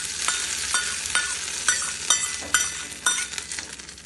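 Mustard seeds, urad dal and curry leaves tempered in hot oil are stirred into coconut chutney in a jar, giving faint sizzling with soft, intermittent scraping and clinking of a spoon.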